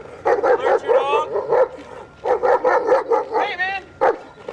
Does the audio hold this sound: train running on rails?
no